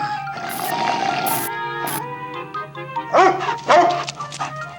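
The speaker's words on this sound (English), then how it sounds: "Look at this sweet puppy! We found him!" A puppy in the video game Amanda the Adventurer 3 gives a few short, yappy barks and whimpers over a soft musical background, close and fairly loud.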